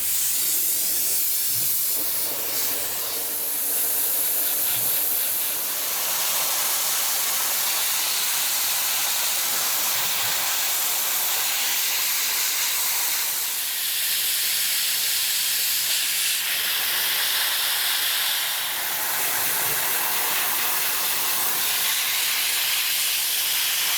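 Dry ice blasting nozzle cleaning the undercarriage of an E36 M3, a continuous loud, harsh hiss of compressed air and ice that surges and fades slightly as the spray moves, with no talking.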